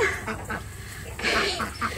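A duck quacks several times nearby in short raspy bursts.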